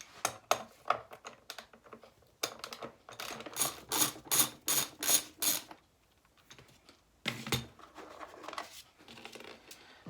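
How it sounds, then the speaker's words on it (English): T20 Torx screws are worked out of a Reich caravan motor mover on a bench, heard as close, dry clicking and ratcheting taps in rapid bursts with short pauses between them. "I'm going to take this out and take these two T20 Torx screws out"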